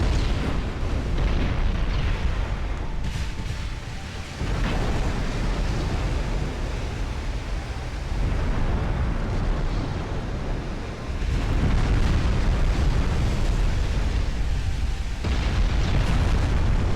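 Naval gunfire and shell explosions from a warship battle in Ultimate Admiral: Dreadnoughts, a continuous roar of heavy booms and rumbling blasts with brief lulls, loud and dense throughout.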